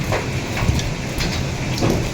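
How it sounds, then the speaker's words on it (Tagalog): Heavy rain pours in a dense, continuous hiss, with scattered louder patters and drips; no voices. "lumalakas pa po yung ulan"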